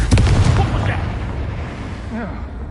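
A Confringo fire-blast spell in Hogwarts Legacy goes off as a loud burst at the start and fades into a rumbling tail, with a voice speaking over it.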